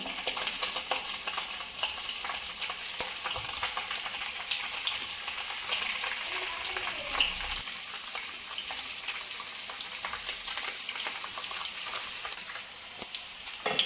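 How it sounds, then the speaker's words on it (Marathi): Paneer slices fry in a pan with a steady, close sizzle and crackle that holds evenly throughout, with occasional soft stirring noises. "तर आता पनीरचे स्लाइस ॲड करूया आणि चांगले फ्राय होऊ दे पनीर"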